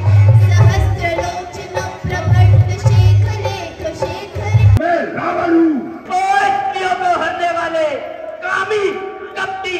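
A large outdoor crowd at a Ramlila performance, loud dense hubbub with shouts and cheers. A voice speaks prominently over the crowd noise throughout.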